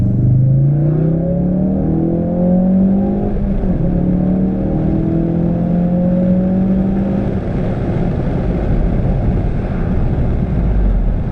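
Ford Focus RS with a performance tune accelerating hard in third gear, a loud close engine note climbing steadily in pitch, then a short break at the shift and continued rumbling pull, with no voices.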